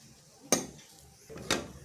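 Momo filling seasoned with pepper and green chilli being mixed in a pan: two distinct clinks of a metal spoon against the pan about a second apart, quiet and close, with soft stirring noise between them.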